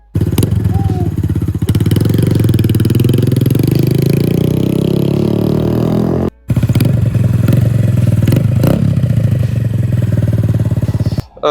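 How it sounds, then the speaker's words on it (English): A Suzuki SV650X V-twin motorcycle engine idles loudly and close, with a steady lumpy throb and occasional clattering knocks, cutting out briefly midway. "It's a V-twin engine, 2-cylinder motorbike."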